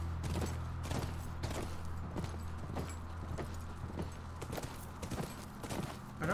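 Horse hooves clip-clop in The Last of Us video game, a steady walking rhythm of distinct thuds at a moderate distance over a low hum, with faint rustles between steps.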